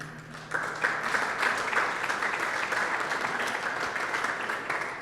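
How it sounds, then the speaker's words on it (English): A room of attendees at a community relations council annual meeting breaks into sustained applause after a quiet start, clapping evenly until the end. "can I just get a round of applause for that?"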